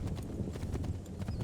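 Galloping horse hooves in the video game Assassin's Creed III, a steady rapid clip-clop rhythm close up and continuous across the short stretch with a low rumble beneath.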